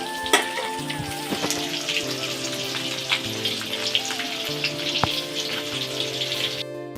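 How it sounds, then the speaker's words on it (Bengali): Fish fries in a pan at home, a steady, crackling sizzle heard close and alone, with small pops scattered through it. "এখানে মাছ ভাজা হচ্ছে"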